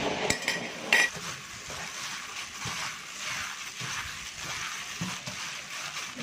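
Seasonings are mixed together by a gloved hand in a bowl for crispy fried chicken patties. Soft scraping and stirring run steadily, with a few light clinks near the start.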